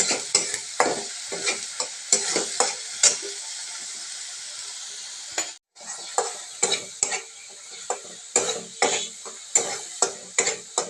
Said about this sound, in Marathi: आपण टोमॅटो आणि कांदा याची जी पेस्ट केलेली आहे ते त्याच्यामध्ये ॲड करूया